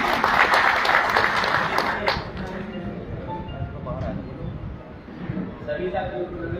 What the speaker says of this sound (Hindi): डॉक्टर साहब का एक बार जोरदार तालियों से स्वागत है।